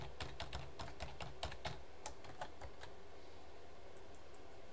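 Rapid bursts of computer keyboard typing as a login and password are entered, a quick run of keystrokes then sparser single taps, close and clear with no talking.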